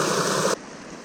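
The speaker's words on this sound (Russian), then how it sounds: "Прикольно, что можно попить воду прямо из ручья. Она стекает с горы, талый ледник." Glacier meltwater runs down a mountain stream in Patagonia, a loud broad rushing wash close by that cuts off abruptly halfway through, leaving faint background noise.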